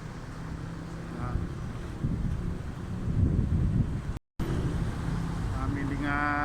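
Wind gusting beside a highway, a steady loud rumble of buffeting across the microphone, with a very brief dropout.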